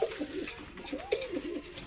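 Prince Kamagar breeding pigeons coo repeatedly close by, a run of low rolling, wavering calls that continue through without talk.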